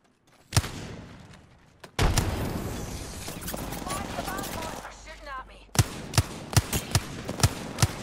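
An Apex Legends frag grenade goes off in a sudden loud burst after a moment of quiet, followed by a long rumbling tail, then a string of sharp game gunshots rings out near the end.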